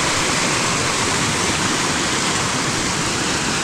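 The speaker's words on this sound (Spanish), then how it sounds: "Miren, por aquí ya la corriente es muy fuerte, como pueden ver." A strong river current rushes along a riverside trail near the Iturbide dam at Peña de Lobos, a loud, steady, close roar of flowing water with no pauses and no talk over it.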